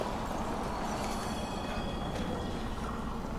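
A train rumbles past in the video game The Ascent, a steady loud rolling clatter of wheels on rails with faint squeals, continuous throughout and without talking.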